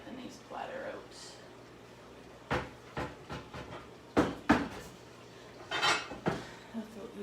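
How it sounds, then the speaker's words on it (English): A platter being taken out of a kitchen cupboard: a series of sharp ceramic clatters and knocks, scattered and loud, with a cupboard bump and a person talking at the start. "I'm just trying to get the nice platter out"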